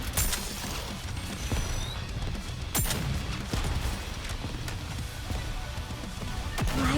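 Rapid bursts of gunfire from the mobile shooter NIKKE, dense and continuous over a busy battle soundscape, with sharper shots punching through at irregular moments.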